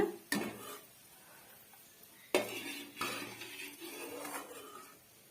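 Fried cashews and raisins being strained out of ghee for pineapple kesari, with a few sharp metal clinks and clatters of utensils against a pan followed by softer scraping, close and fairly quiet, no talk.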